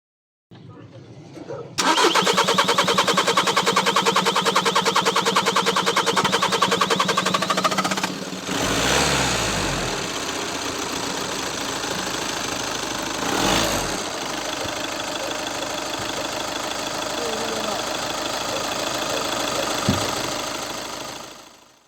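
A Volkswagen-group TDI diesel engine with a fuel rail pressure fault cranks, helped by starter spray, and fires up loudly, then settles into a steady, rattling idle that runs on for a long stretch before cutting off.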